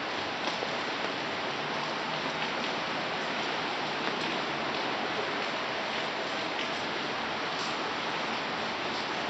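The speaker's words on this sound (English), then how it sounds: "It's raining." Steady rain falls across a house backyard, a dense, even hiss of drops on surfaces that continues without pause, fairly loud and close, with no talking.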